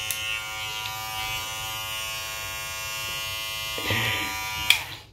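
A MOOZIE 1901 hair clipper, rated at 6,500 RPM, runs in a steady, close electric buzz with a bright whine, surging briefly louder near the end before it cuts off.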